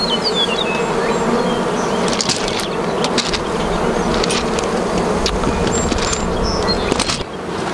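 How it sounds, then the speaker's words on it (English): Dense, steady buzzing of many honey bees around an opened hive during a hive split, close and continuous throughout, with occasional faint clicks and knocks over the drone. "It's a good idea to cover the hive so all of the bees that were shaken down there stay in there."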